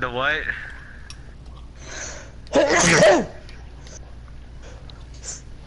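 A single sharp sneeze bursts out mid-clip, close and loud, with quiet speech before and after it.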